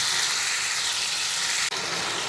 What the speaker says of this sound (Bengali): অল্প করে জল দিয়ে দিলাম এবার আবার ভালোভাবে একটু নাড়াচাড়া করে নিয়ে ফুটতে দেবো